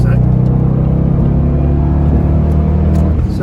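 Supercharged Jaguar XFR accelerating hard to overtake another car, a loud, steady engine roar rising in pitch from inside the cabin, with no speech over it.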